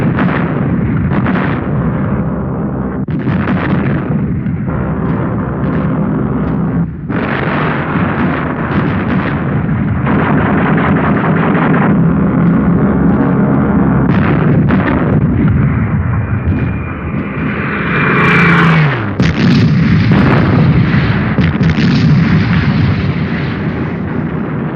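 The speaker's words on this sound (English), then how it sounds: "over 200 Allied bombers pounded the monastery into rubble" Over 200 Allied bombers pound a monastery in Italy in February 1944, with loud repeated explosions and rumbling booms in heavy succession and a big blast near the end.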